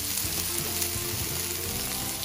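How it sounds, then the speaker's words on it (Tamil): Chopped garlic and onion fry in hot oil for a Sri Lankan okra curry, sizzling loudly and steadily at close range, with no voices. "வெட்டி வச்ச உள்ளியும் வெங்காயமும் அந்த சூட போகிறோம்"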